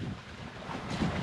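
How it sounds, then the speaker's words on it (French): Steady wind rushes across the microphone while sailing at sea off Spain, a broad continuous roar with low buffeting and faint water wash, rising slightly near the end. "vent a fini par se lever."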